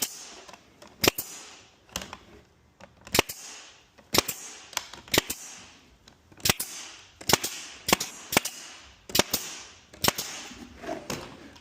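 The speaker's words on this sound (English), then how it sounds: "I've just found it's easier to nail from the bottom of the box than trying to put the nail gun inside the box" A nail gun fires into the bottom of a cedar planter box, a series of sharp, loud pneumatic shots at irregular intervals roughly a second apart, each with a short hiss.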